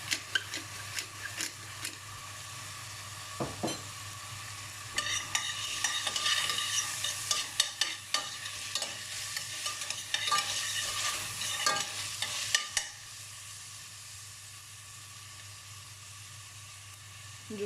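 Chopped onions seasoned with black pepper sizzle steadily in a hot pan while being stirred, with scraping and clicking from the utensil over a constant frying hiss that drops away near the end.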